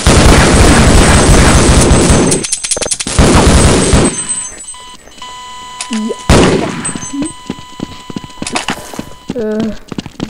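Gunfire and explosive bursts from a Half-Life multiplayer match, several loud shots and booms packed close together early, then sparser pops and in-game effects later.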